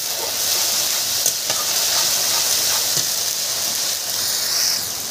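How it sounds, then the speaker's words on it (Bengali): Spice paste fries steadily for Bengali ghugni, a dense, even sizzle close by that holds at constant loudness, with faint clinks of stirring now and then. "এবার কষিয়ে নেবো মশলাটা ভালো করে।"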